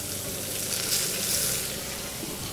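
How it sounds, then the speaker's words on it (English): Margarine sizzles hot in a pan at a camp on the ice, a steady loud hiss and crackle close up with no talk over it. "Just I'm burning the butter. It's okay. Okay. Hot butter."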